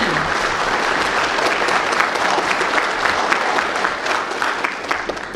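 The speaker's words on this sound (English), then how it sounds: "Big round of applause for the whole team." A school speech night audience gives a dense, sustained round of applause for a team, loud and continuous, with a faint murmur of the crowd underneath.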